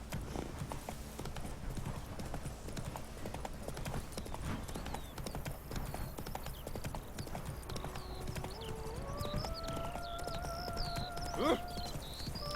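Horse hooves clip-clop steadily on the ground in The Witcher 3 video game, a continuous rhythmic trot over game music and ambience, with a brief whinny-like tone near the end.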